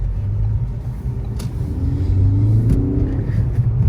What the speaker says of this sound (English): Let's take you on a short drive here.